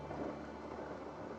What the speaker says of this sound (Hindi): हल्की फुल्की रिमझिम बारिश शुरू हो गई।